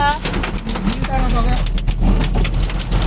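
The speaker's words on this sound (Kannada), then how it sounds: "ಸಿಕ್ಕಾಪಟ್ಟೆ ಜೋರಾಗಿ ಬರ್ತಾ ಇದಪ್ಪ ಆಲಿಕಲ್ಲು." Hailstones striking a car during a heavy storm, irregular hard taps and cracks over a steady roar of rain, with a person talking throughout.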